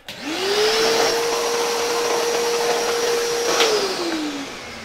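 A vacuum cleaner set to blow air whirs steadily at close range, its motor tone holding level for several seconds before winding down at the end.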